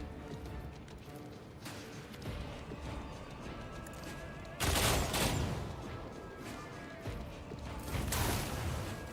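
Rapid fire in the video game Warhammer 40k Rogue Trader comes as two loud, dense bursts of gunfire that break out from quieter game ambience, the first sharp and sudden and the second a little later.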